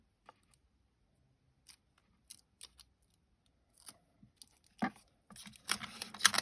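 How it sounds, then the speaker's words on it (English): Scissors snip paper for stamping in a quiet room, with a few sparse, faint, close cuts and rustles, then a denser burst of crisp snipping and paper handling at the end. "I'll just cut a bit of that off."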